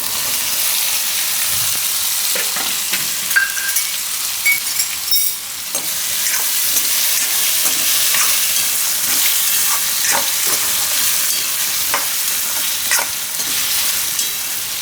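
Potatoes sizzle loudly in hot oil with a pinch of asafoetida, a dense steady frying hiss broken by occasional stirring clinks and scrapes of a spoon against the pan.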